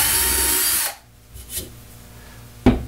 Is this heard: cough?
no